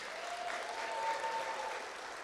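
Audience applause at a live theme park reveal event for the Tormenta Rampaging Run ride, honoring the park's VP and manager; steady, dense clapping fills the whole stretch at an even level with no voices above it.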